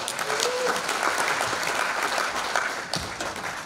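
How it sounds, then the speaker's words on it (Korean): Sustained applause from an audience at a Korean members' gathering in Daejeon, greeting attendees who travelled from Jeju; dense, steady clapping throughout with a slight fade near the end. "제주에서 멀리 오신 우리 회원님들께 큰 박수 부탁합니다"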